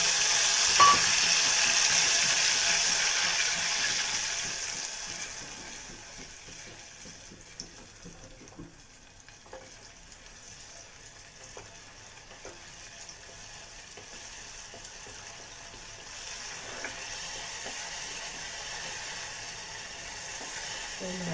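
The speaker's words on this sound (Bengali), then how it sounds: "এই তেলের মধ্যে দেব পোস্ত বাটা পোস্ত কাঁচা লঙ্কা বাটা আর টমাটো এটা তেলের মধ্যে আমি ভেজে নেবো" Poppy seed paste, green chilli paste and tomato fry in hot oil, a steady sizzle that is loudest at first and then settles into a softer crackle, with occasional stirring clicks.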